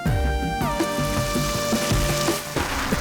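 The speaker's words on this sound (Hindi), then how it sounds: "अरे बारिश होने लगी।" Rain beginning to fall, a steady hissing patter that runs throughout alongside sustained musical tones, with no talking.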